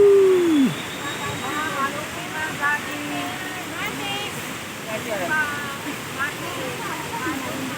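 A waterfall pours in a constant broadband rush, with excited voices calling and chatting over it and a brief whoop at the start.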